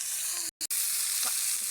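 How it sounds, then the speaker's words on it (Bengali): Cauliflower, potato and cabbage fry together in a pan, giving a steady, close sizzle with a brief stir partway through and no talking. "ফুলকপি, আলু, পাতাকপি আমি এটা একসাথে ভাজি করতেছি।"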